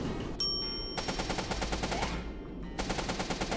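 SMG fire in the video game The Reverend comes as rapid, evenly spaced shots in sustained bursts, close and loud, with a brief gap between strings of fire.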